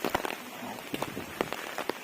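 Rain patters on a surface in irregular soft taps at Khaire Vandri Lake in Palghar district, fairly quiet and close, with no voices.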